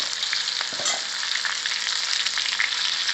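Pointed gourd (parwal) pieces fry with turmeric and salt in a pan, giving a steady, close, fairly loud sizzle with faint stirring scrapes throughout, no voices.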